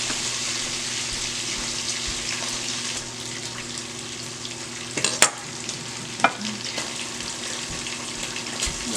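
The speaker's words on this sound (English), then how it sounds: "So let's see if our bacon is popping." Bacon fries in a pan as a steady close sizzle fills the whole stretch, with a few sharp pops and crackles breaking through near the end.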